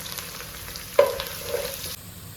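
Garlic frying in a pan while cooking Mangalorean crab sukka, with a steady soft sizzle and a brief louder burst of stirring around the middle, close and alone without talk.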